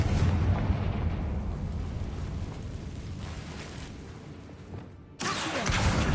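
A Confringo fire spell from Hogwarts Legacy bursts with a loud, sustained roaring blast that fills the scene, dips briefly near the end, then surges back at full force.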